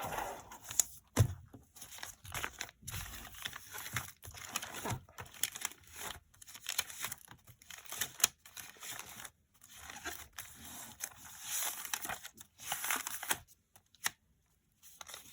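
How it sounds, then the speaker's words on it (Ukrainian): Paper and foil crinkle and rustle in irregular bursts up close, broken by short pauses, like small packets being torn open and unwrapped. "Сьогодні у нас ось такі пакетики на розпаковочку"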